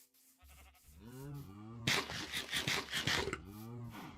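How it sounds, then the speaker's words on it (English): Sheep in Minecraft bleat in several wavering calls, a couple of short cries followed by a louder, longer burst of noisy bleating and a final softer call, heard close and clear. "Hello, sheep."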